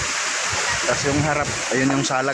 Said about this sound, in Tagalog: yung pahulog ang tubig sa Langit-Langit Falls